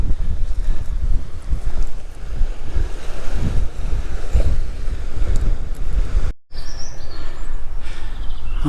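Strong wind buffeting the microphone on the Pembrokeshire coast, with waves surging below in a loud, continuous roar and a brief cut-out near the end.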